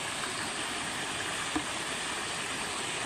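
A river current flows steadily at the Kamaysa river in Tayabas, Quezon, a constant soft rushing wash that stays even throughout, with no voices.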